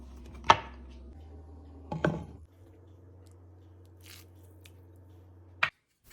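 A knife cuts cooked beef into bite-size pieces on a board, three separate sharp chopping thuds with quiet pauses between them, close and isolated.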